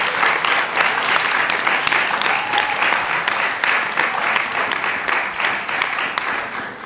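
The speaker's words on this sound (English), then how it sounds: "let's give her a round of applause" Sustained audience applause fills a conference hall at an East Africa regional gathering, a dense steady patter of many hands that carries on for several seconds at an even level before tapering slightly at the end.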